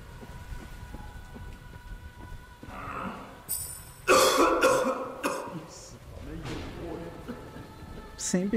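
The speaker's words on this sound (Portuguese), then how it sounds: "Sempre tem algum personagem em Bloodborne ou Sekiro tossindo lá dentro da porta que você não sabe o que tá rolando" A character coughs behind a door in a dark action video game styled after Bloodborne and Sekiro, with rough coughing bursts over a stormy, rumbling ambience and someone talking.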